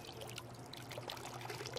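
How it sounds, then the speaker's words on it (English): Water poured out of a large plastic pool test tube to bring the sample down to the 25 milliliter mark, a soft, steady trickle lasting under two seconds, close and quiet. "pour it out until you get to 25 milliliters"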